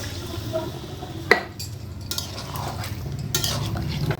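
Bottle gourd and shrimp being stirred in a pan for lau chingri, with a steady low cooking rumble and scattered scraping and clinking of a utensil against the pan, one sharper clank early on.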